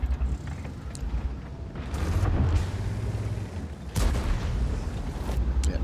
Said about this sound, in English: Bulldog hits you with some HE